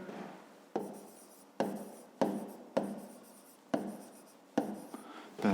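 Handwriting on paper during a fifth-grade math lesson makes a series of rhythmic scratching pen strokes. Each is a sharp onset that fades, repeated about every three-quarters of a second, close and clear.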